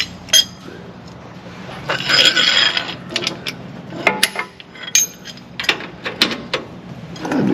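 A 1 1/16 socket wrench tightening a nut while fitting a Bison Off Road stop cam kit gives close, irregular ratcheting clicks and metallic clinks in short bursts, with no talk.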